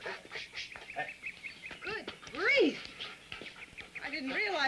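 A dog pants rapidly at close range in an isolated setting, its quick breaths running under overlapping conversation and a few bright squeaky sounds.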